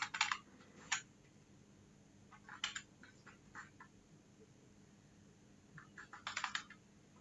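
Typing on a computer keyboard: scattered bursts of quick, crisp key clicks separated by quiet pauses, close and fairly faint over a low room hum, with a busier flurry of keystrokes near the end.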